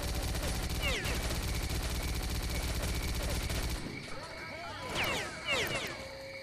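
Sustained rapid gunfire from a mounted gun in S.T.A.L.K.E.R. Clear Sky rattles loudly for about four seconds, then cuts off, leaving quieter ambience with a few short bursts and chirping effects.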